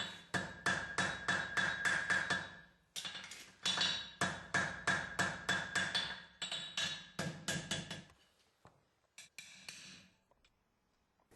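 Farrier's hammer striking a horseshoe on an anvil while adjusting the clip angles, rapid bursts of ringing metallic blows in quick rhythmic runs with short pauses, close and loud, tapering to lighter sparse taps at the end.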